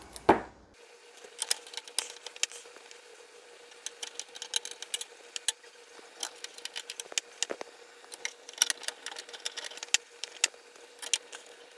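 A screwdriver drives the screws of a PC motherboard into its standoffs during a computer build, giving quiet, irregular clicks and ticks of metal and ratcheting over a faint steady hum, with no talk.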